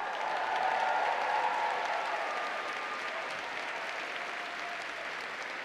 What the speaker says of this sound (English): let's let out a cheer for the first chair in women's history in the entire world